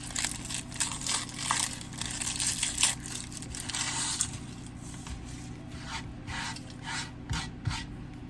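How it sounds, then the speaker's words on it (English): A knife cuts up a medium onion on a board, making soft, uneven rubbing and crunching strokes with a few sharper cuts near the end, heard up close and fairly quiet. "So we have, I would say, a medium onion. We're gonna cut up here."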